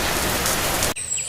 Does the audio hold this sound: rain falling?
yes